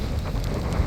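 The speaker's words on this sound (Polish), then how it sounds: "Ale wieje." Wind gusting through a rain shower on the way to temples in the Angkor complex, Cambodia; a constant close roar of blowing air and rainfall with no voices.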